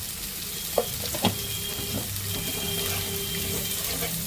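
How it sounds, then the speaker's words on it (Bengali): Coconut milk is poured into spice paste frying in a pan for Bengali egg malai curry, giving a steady liquid sizzle with a couple of sharp clinks near the start. "মশলাটা আমার ভাজা হয়ে আসলে আমি নারকেলের দুধটা বের করে রেখেছি, এটা দিয়ে দিচ্ছি মশলার মধ্যে।"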